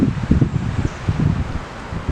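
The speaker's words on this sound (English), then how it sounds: "It's very windy out here today, so it's very distracting." Gusty wind buffets the microphone with low rumbling bursts, steady and fairly loud, with no voices.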